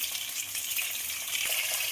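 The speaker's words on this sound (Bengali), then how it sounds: "পেঁপেটা ভাজার জন্য দিয়ে দেবো" Papaya and potato pieces fry in oil in a wok, producing a steady close hiss of sizzling with faint stirring bumps, heard alone without talk.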